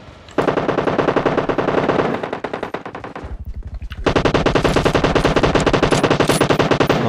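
Sustained bursts of automatic rifle fire from an M-162 in PUBG Mobile, loud and close, with a brief pause before the rapid shots continue steadily.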